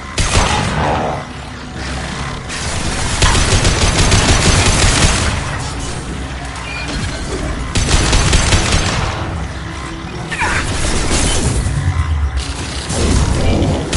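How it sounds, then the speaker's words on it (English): Gunfire in a PS4 video game: rapid machine-gun bursts and booming shots come in repeated loud volleys, separated by brief lulls, with clanking mechanical sounds mixed in and no talking. "We have been detected. Enemy hit. Under fire."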